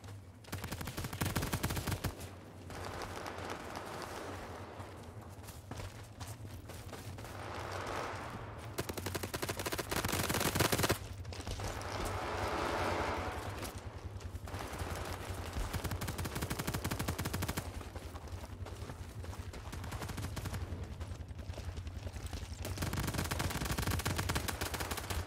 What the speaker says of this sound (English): It's like I can hear everybody's guns except for mine.